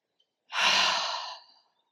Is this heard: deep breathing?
yes